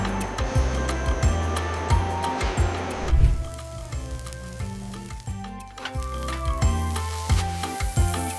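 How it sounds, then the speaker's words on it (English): Beef patties sear on a hot grill in a large meat-processing plant, a steady sizzle that runs beneath rhythmic background music and industrial clatter, busiest in the first few seconds before easing slightly. "Every patty is seared top and bottom at the exact same temperature for the exact same 38 seconds."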